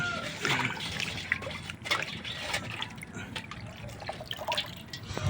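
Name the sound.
washing jackfruit in water basin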